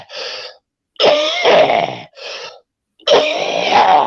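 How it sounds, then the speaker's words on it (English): One person coughing and hacking up close, four harsh, rasping bursts of uneven length separated by short silences, the longer bursts rough and throaty. "my body disposes of them, hacks them up, and coughs them out."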